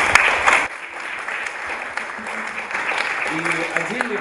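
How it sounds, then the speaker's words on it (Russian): Applause breaks out in a Russian audience at a talk on social entrepreneurship. A loud, close burst of clapping opens the clip and quickly drops to a softer, continuing patter, while a voice speaks over it. "Поэтому я хочу еще раз в адрес вас сделать аплодисменты."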